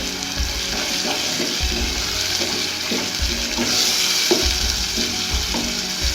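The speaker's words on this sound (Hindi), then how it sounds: "टमाटर डाल देंगे अपने। थोड़ा सा टमाटरों को भी भूनेंगे।" Tomatoes sizzle and fry in a hot pan for an egg khagina, a constant hiss with periodic scraping stir strokes and a faint splash of water in the background, close and without speech.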